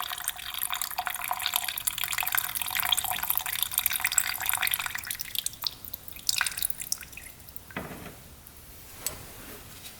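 Gasoline dumped out of an ATV carburetor: a close splashing pour of liquid that thins into scattered drips and trickles toward the end.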